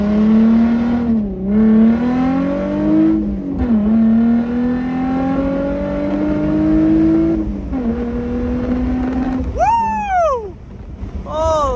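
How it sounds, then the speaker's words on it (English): A car engine revs hard from standstill and launches, harmonic engine tone rising and dipping through several gear-like surges, loud and close, ending in a fast high sweep as it accelerates away. "Let's rev this baby up. Let's launch her."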